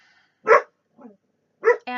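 A pet dog barks indoors at a passing car, giving two loud close barks and a fainter one between them, with a short tonal whine or yip at the end.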